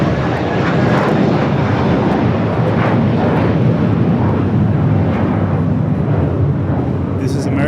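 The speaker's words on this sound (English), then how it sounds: "This is American 1024 going to Orlando on a 10-year-old Airbus A321" A ten-year-old American Airlines Airbus A321 bound for Orlando at LAX produces a loud, close, sustained jet engine roar that holds steady across the whole clip.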